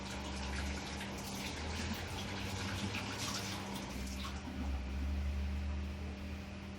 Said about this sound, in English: So I'm going to rinse that out real quick